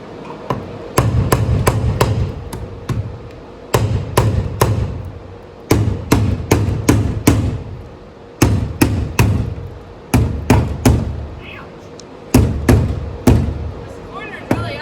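Repeated sharp knocks on a rusty vintage GMC step van's body panel from inside, coming in quick clusters of hard metallic taps with short pauses between them.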